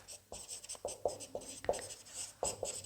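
Chalk or marker strokes on a board during a stereochemistry lecture, a series of short scratchy taps and swipes in irregular rhythm, close and fairly quiet, with no talking.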